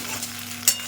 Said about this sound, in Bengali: তার সঙ্গে গোটা জিরে দিয়ে ভেজে দিচ্ছি